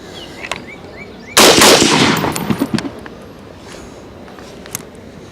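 A single loud, sharp shot from an AR-10 rifle firing 7.62x51 rounds bursts out close by outdoors and then trails off in a rattling echo, followed by quiet ambience.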